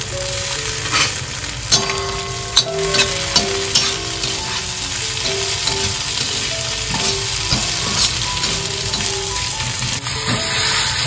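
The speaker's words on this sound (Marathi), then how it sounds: "आता इकडे ना मस्तपैकी आपण सर्व कांदा टोमॅटो स्मॅश करून घेतोय." Onion and tomato, with curry leaves, are mashed and stirred in a frying pan, giving a steady sizzle broken by scraping taps and clicks from the spoon against the pan.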